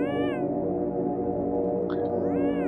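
A cat character in Yume Nikki gives drawn-out, loud electronic meows with rising and falling pitch, repeating over a sustained droning game tone, close and clear without talking.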